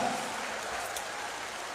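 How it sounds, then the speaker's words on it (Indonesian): Dense, steady applause from a large audience at a university vocational school anniversary orchestra event, a continuous wash of clapping with no gaps. "Tepuk tangan yang paling meriah untuk Sekolah Vokasi UGM dan juga UGM yang luar biasa"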